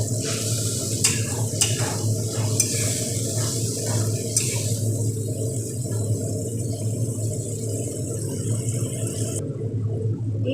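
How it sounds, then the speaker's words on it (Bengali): Spice masala for a vegetarian poppy-seed curry frying on high heat in a pan, a steady close sizzle with repeated scraping and stirring strokes, ending in a quieter bubbling. "এই মশলাটা একটু কষানো হয়ে গেছে"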